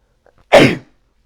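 A single sharp sneeze, close and loud, preceded by a faint breath, then silence.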